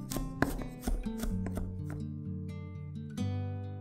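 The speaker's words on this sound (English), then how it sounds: "Next, roughly chopped up 5 cloves of garlic." A knife roughly chopping five garlic cloves on a cutting board, a quick run of firm taps that slows into a few sparse knocks, with a ringing, musical tone behind them.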